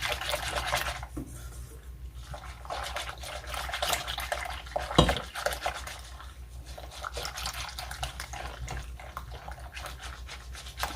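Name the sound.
whisking cornstarch into pie filling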